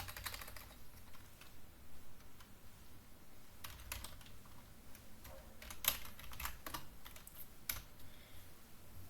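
Soft, fairly faint clicks come from a computer keyboard in irregular short bursts over a low background hiss, with a few sharper keystrokes standing out.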